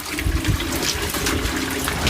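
Water gushes out fast after being opened, a steady, noisy rush that stays loud and close throughout, with no talking.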